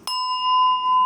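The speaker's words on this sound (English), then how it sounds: "there is another bell" A single clear bell strikes once to mark a breathing exercise, a sharp onset followed by a pure, sustained ringing tone that holds steady to the end with no talk.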